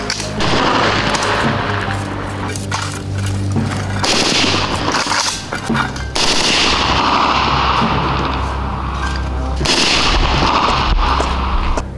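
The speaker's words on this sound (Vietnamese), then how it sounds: "Sẵn sàng nổ súng." Loud gunfire and heavy booms ring out during a military training exercise, with dense volleys and bursts repeating over twelve seconds, close and powerful, and no clear talking.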